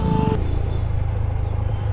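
Steady road traffic on a ghat road descending from Kodaikanal, heard from a motorcycle, with a continuous low engine and vehicle rumble throughout and a brief horn-like tone at the start.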